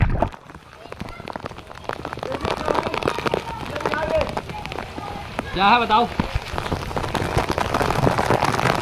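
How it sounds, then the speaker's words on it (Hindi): An artificial rain shower at a water park pours steadily onto the pool water nearby, a dense hiss that builds toward the end, while people talk and call out over it. "अभी देखिए ऊपर से जो है बारिश आ रही है और मैं चलता हूँ इसके अंदर।"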